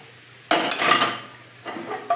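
A kadai goes onto a stovetop burner with a sudden metallic clank, followed by a few lighter knocks and scrapes of metal on metal, close and fairly loud in a quiet kitchen.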